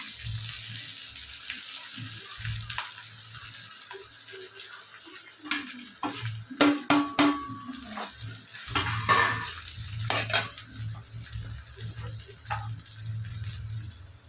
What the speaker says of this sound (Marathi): छानसं मिक्स करून घ्यायचं आता टाका बघा आपण शाबू